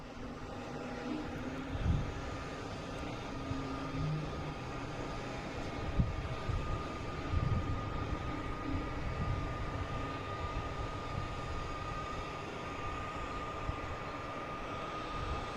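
Delta flight 5689 comes in to land, a fairly faint, steady jet rumble with a thin sustained tone, distant and continuous with small bumps of noise.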